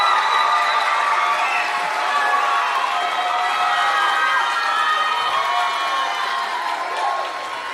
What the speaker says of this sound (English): Can we give all of our scholars a big, well-deserved round of applause?